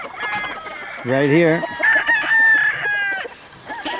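Gamefowl roosters at a cockpit crow loudly and nearby, a drawn-out call followed by another long crow, with clucking between and after, while people talk briefly.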